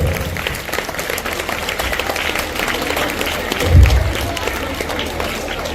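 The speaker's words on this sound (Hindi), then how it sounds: "आप लोगों की तालियां फीकी नहीं पड़नी चाहिए क्योंकि अभी शुरुआत है।" Audience applause at an Urdu high school's annual day function, a steady wash of many hands clapping at moderate loudness, with a brief louder swell partway through and voices mixed in.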